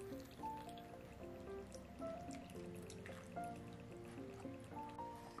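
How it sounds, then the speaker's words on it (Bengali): Water is poured from a cup into half a cup of flour to make batter, giving a faint trickling and dripping close by. Quiet tonal music plays underneath throughout, and nobody speaks. "এর মধ্যে দিয়ে দিচ্ছি জল।"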